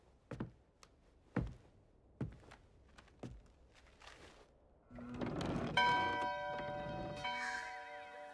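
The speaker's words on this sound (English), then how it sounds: "It's a nice little bell." Within Diablo IV, a few soft, spaced footsteps give way to a bell struck once, its bright metallic ring sustaining and slowly decaying over a low ambient hum, with no speech.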